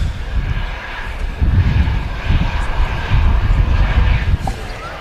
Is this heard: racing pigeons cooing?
no